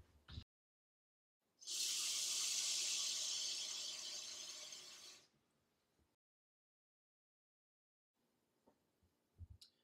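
Tap water gushes steadily into a Magic Bullet blender cup for about three and a half seconds, loud and close, tapering slightly before cutting off, with brief clicks and handling noises before and after.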